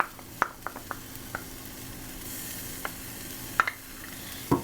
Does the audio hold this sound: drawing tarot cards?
no